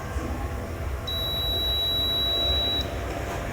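Continuity buzzer of a Sanwa PC7000 multimeter sounds one steady, clear beep lasting nearly two seconds over faint background hiss, with no talking.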